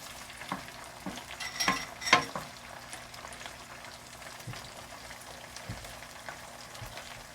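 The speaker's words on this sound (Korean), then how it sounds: "새우를 먼저 넣어주시고 조금 익히다가 어느 정도 익으면은 그때 야채를" Shrimp and vegetables for gambas frying in a pan, a soft continuous sizzle broken by occasional scrapes and clinks of stirring, close and moderately quiet, with no voices.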